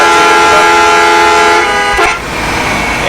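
A bus horn in the Map of Bangladesh driving game blares in one long, loud continuous honk, then cuts off, leaving a lower vehicle rumble.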